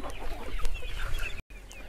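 A hen, a native country chicken with a cold, clucks repeatedly at close range, soft throaty clucks and murmurs over a rustling farmyard background, with a brief dropout near the end.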